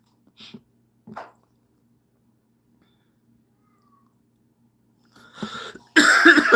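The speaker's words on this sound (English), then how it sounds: "you still got that cough" A couple of short, dry coughs sound close by in a quiet room, followed after a pause by a louder, harsher burst at the end.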